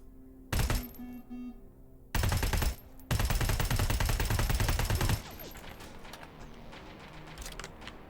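Automated gun turret in the Terminator: Resistance video game firing loud, rapid bursts: a short burst, a longer one, then a sustained volley of about two seconds, followed by quieter clattering and ambient game sound.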